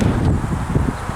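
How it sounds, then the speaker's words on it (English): Strong wind near Fiesta Island on Ocean Bay, buffeting a microphone with a steady, loud rumbling gust that continues throughout. "Got a mite bit windy, it did."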